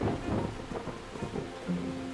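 Thunderstorm with steady rain and low rolling thunder rumbles, a continuous dense wash of rainfall with deeper booming swells, moderately loud and close, no voices.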